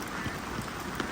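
Heavy rain patters on plastic polyhouse roofs at a farm, a dense steady wash of drops with a few slightly louder hits, no voices.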